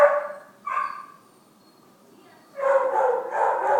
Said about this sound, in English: My dog's going crazy in the other room.